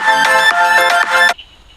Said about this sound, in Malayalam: ഒരു കോള് വന്നു അതുകൊണ്ട് ഫോണിൽ റിങ് അടിച്ച ഒച്ചയാണ് കേട്ടോ കേൾക്കണത്